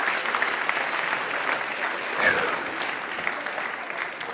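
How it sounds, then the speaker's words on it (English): Steady round of applause from a live audience for three participants at a mental-arithmetic stage show, a full, even wash of clapping hands that holds at a constant level for the whole span. "let's give all 3 of these people a nice round of applause"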